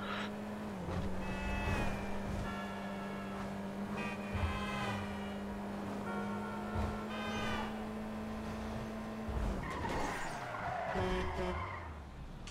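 In the video game Grand Theft Auto V, car tires squeal and skid loudly for several seconds over a steady engine drone, and a burst of rough skidding and crashing noise follows near the end.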